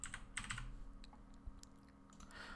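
Soft, close keystrokes on a computer keyboard tap out a short word in quick clusters, quiet and unaccompanied by speech.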